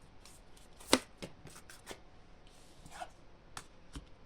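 Tarot cards being shuffled and handled, giving a few soft, scattered papery flicks and one sharper snap near the start, faint and close, with no talking.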